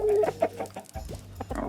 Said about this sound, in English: we got a lot of chickens